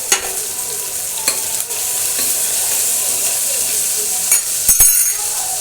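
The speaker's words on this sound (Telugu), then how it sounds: "ఒక బాండీ పెట్టి దాంట్లో కొంచెం నూనె వేసి ఎర్రగడ్డ, పచ్చిమిరపకాయ బాగా వాడిన తర్వాత కొంచెం కరివేపాకు వేసుకోండి." Onion and green chillies fry in oil in a pan, giving a loud continuous sizzle, close up, with a few sharp clinks and scrapes of stirring.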